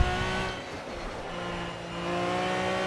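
A race car in the Project CARS racing game runs at full throttle, a loud, sustained high engine wail with steady harmonic tone that dips briefly then climbs again, heard close with no talking.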